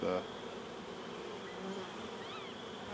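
Honey bees buzz steadily during a hive inspection, a soft continuous drone with a faint higher whine passing near, no talk.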